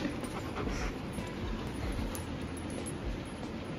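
A puppy pants steadily and quietly close by, with faint whimpers mixed into the quick breathing, over soft background noise with no talking.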